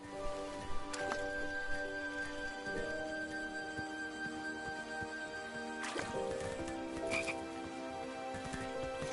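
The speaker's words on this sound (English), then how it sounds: "I was too slow to catch those frogs." Frogs croak in the King's Quest video game, a continuous chorus of rhythmic, chirping croaks with a few louder bursts, steady throughout and alone without talk.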